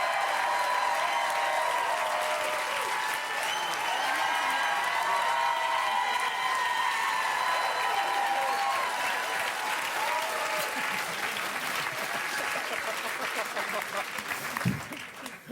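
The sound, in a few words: audience applauding the improvisers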